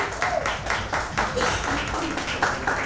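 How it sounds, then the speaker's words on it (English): An audience at a magazine cover unveiling event claps in a steady rhythm, loud and close, with some cheering mixed in. "Come on everybody, you can cheer"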